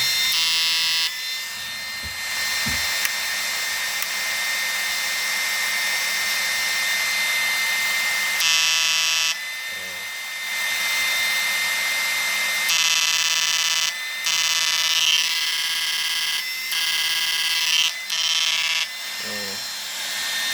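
A steady electronic metal detector tone drones continuously with shifting pitch bands, cutting briefly in and out several times, loud and close.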